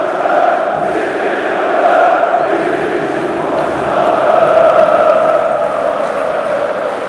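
Fenerbahçe football fans in a stadium chant together in a loud, sustained roar that swells and recedes in waves, keeping a steady rhythm with no single voice standing out.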